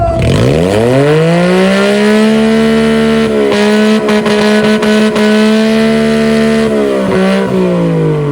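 A small one-cylinder car revs and accelerates away at a car and coffee meet, its loud buzzing engine note rising sharply in pitch and then holding high, with brief dips as it shifts, close and dominant throughout.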